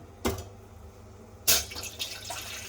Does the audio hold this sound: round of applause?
no